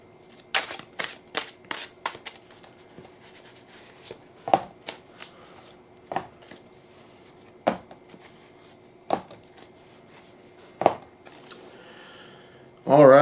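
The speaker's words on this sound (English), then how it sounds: "I'm going to shuffle." Tarot cards are shuffled in a series of short, crisp riffles spaced out one after another, close and clear against a quiet background.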